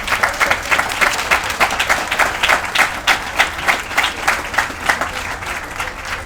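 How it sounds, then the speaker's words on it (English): A crowd at a groundbreaking ceremony claps loudly and steadily, a dense close burst of many hands with a faintly pulsing rhythm that holds for the whole stretch. "Clap it up."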